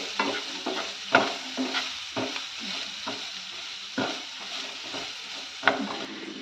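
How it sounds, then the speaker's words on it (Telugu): Sliced onions with salt fry in a pan for a spinach karam, with a spoon scraping and stirring through them in uneven strokes over a steady, close sizzle. "ఉప్పు కూడా వేసి చక్కగా ఈ విధంగా మిక్స్ చేసుకోవాలి."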